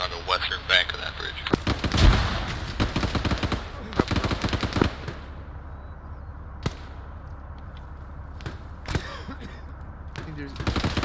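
Gunfire rings out in the video game Arma 3 during an ambush near a bridge: sharp, loud shots and short bursts arrive at irregular intervals, with quieter gaps between them.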